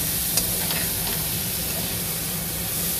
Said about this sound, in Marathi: आता आपण तिथे कॉर्न टाकून घेतलं तर मिक्स करूयात.